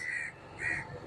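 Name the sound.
crow cawing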